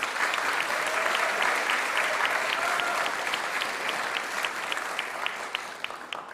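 Steady applause from a large audience at a senior awards ceremony honoring top students, a continuous, even roar of many hands clapping that softens slightly toward the end.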